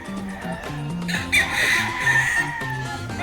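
A Pure Golden Boy Sweater gamefowl rooster at a game farm clucks and calls loudly and close up, with other fowl crowing and clucking around it in a busy, overlapping farmyard chorus.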